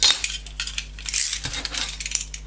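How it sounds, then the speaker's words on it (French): A metal cutting ruler is picked up and handled on a workshop bench, making close clinks and scrapes in quick irregular bursts over a low hum. "Je vais prendre ma règle de coupe."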